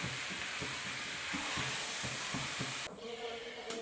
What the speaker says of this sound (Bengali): আমি একটু সামান্য জল ঢেলে দিয়েছি